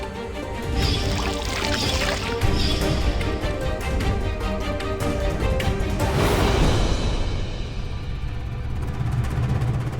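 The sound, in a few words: pouring water into flour to make roti dough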